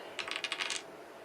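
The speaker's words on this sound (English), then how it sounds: "let's go back to the dice roller and let's get the number for the next prompt" Dice clattering in a dice roller during a tabletop reading-prompt game, a quick burst of several bright rattling clicks lasting under a second, close and fairly loud, then quiet.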